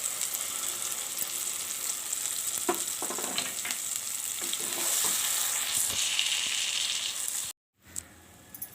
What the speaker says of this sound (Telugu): ఇప్పుడు మనం ముందుగా చేసి పెట్టుకున్న మసాలా ముద్ద వేద్దాం.